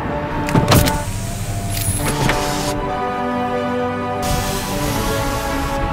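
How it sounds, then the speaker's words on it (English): An electric sunroof motor in a 2008 Chevy Malibu whirs steadily from inside the cabin, a close, even motor hum with a couple of brief clicks and knocks as it moves. "So the sunroof is actually automatic."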